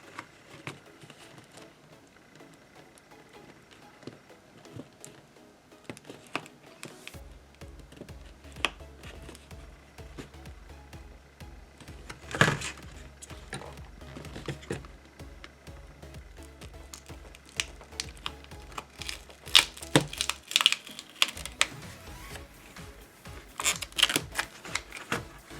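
A credit card is worked under an iPhone battery to pry it up, giving quiet, irregular clicks, scrapes and plastic creaks close up, with a soft low hum running through the middle and no talking.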